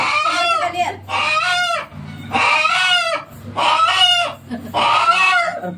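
Rooster at a Konkan village home giving repeated loud clucking calls in four close bursts with short gaps between, near and alone.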